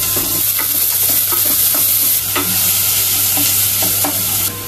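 Chopped onion hits hot oil in a home kitchen pan, giving a loud, continuous sizzle broken by the scrape and clatter of stirring.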